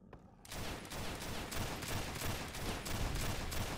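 Rapid gunfire from a scoped gun in Fallout: New Vegas, fired in a fast, steady stream of loud, dense bursts after a brief quiet start, with no talk over it.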